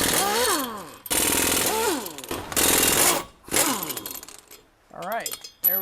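An impact gun hammers in loud, close bursts while undoing 13/16 suspension bolts on a Duramax diesel truck, each burst rising and falling in pitch with short pauses between, the last one brief.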